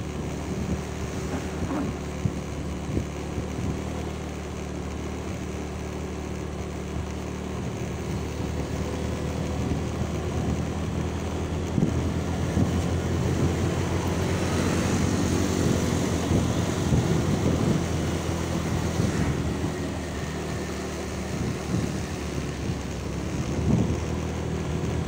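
A Honda Vario scooter climbing the uphill road toward Bromo gives a steady engine drone mixed with heavy wind buffeting against the microphone. It stays continuous and fairly loud for the whole ride, swelling slightly midway.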